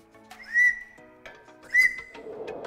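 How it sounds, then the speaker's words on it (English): A whistle stop tool fitted in a classic Mustang's spark plug hole gives two short, shrill whistles about a second apart as compression blows through it, close and clear over faint mechanical noise. "it'll actually turn, it'll blow like a whistle."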